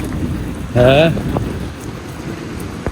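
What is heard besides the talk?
heavy rain falling outside a pizza shop in New York City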